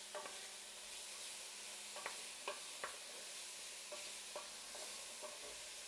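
Chopped onions and celery sweating in a pot for clam chowder, giving a soft steady sizzle with several light stirring clicks and scrapes spread through, no talking.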